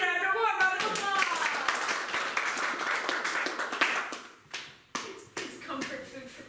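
A brief round of applause from an audience at an improv comedy show, crisp scattered claps under and around a speaking voice, thinning out into a few isolated claps near the end.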